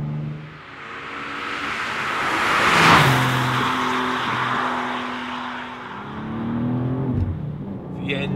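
A BMW M2 G87 engine accelerates hard with a loud, rising roar and gear-change pitch drops, swelling to a peak midway, while a voice talks over it.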